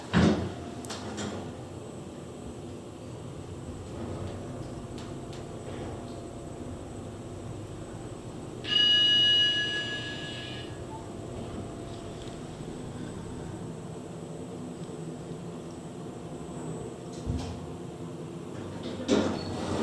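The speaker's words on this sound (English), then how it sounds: "Door close works, I like that." Doors of a Schindler 3300 elevator sliding shut in a mall, a low steady rumble with a brief tonal whir midway and soft thumps near the start and end, no voices.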